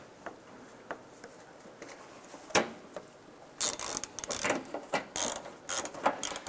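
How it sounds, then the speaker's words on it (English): Ratchet tightening a 10mm bolt that holds the back corner of a 2006-2011 Cadillac DTS fender to the bumper, heard as bursts of quick clicking after a few faint taps, close and alone. "We're going to install our 10mm bolt holding the back corner of the fender to the bumper"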